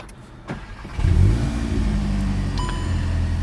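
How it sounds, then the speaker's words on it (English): A 2021 VW Golf Mk8 GTI starts up with a click and a quick crank, then its engine catches and settles into a steady, loud, close idle rumble. "I'm just going to turn the car on"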